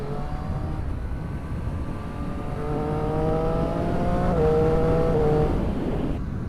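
A 2015 Triumph Street Triple RX motorcycle rides through town, its engine note humming steadily and climbing through the revs before easing off, heard moderately close over faint street ambience.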